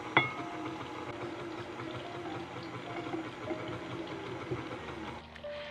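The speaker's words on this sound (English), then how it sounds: "Now we can start slowly mixing in our dry ingredients. So I'm gonna just put it on a pretty slow speed." An electric mixer runs on slow speed through cheesecake batter for a caramel apple pie cheesecake, making a steady, fairly quiet motor hum with a faint rhythmic churn and no talking.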